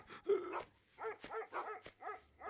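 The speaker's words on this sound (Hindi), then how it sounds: "काफी देर से स्कॉट डॉग वहां भौंक रहे हैं" Sniffer dogs bark repeatedly, a run of about six sharp, moderately distant barks with brief whimpering yips between them, against an otherwise quiet background.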